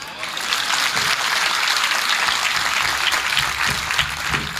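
An audience at a comedy poetry show breaks into steady, loud applause that holds for several seconds.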